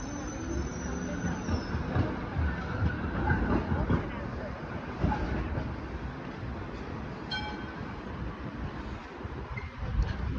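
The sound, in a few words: Route 67 tram passing at Anzac Station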